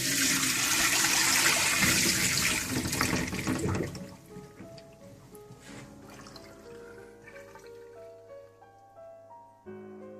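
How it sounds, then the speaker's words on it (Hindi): A rush of water pours and drains loudly for a few seconds from soaked potatoes cut for French fries, then tapers into gentle trickling and dripping. "पांच मिनट के बाद दोबारा आप पानी इसका ड्रेन कर लें।"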